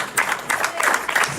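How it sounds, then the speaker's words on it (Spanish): Church congregation applauds loudly in rhythmic bursts of clapping, with a voice speaking over it. "Dale un fuerte aplauso."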